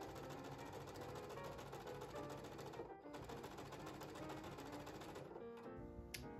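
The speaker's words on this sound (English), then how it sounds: "I'm gonna use a 1/4 inch seam and sew these squares together." A sewing machine stitches fabric quilt squares together with a 1/4 inch seam, its needle chattering in a fast, steady rhythm close up, pausing briefly midway before running again and then stopping.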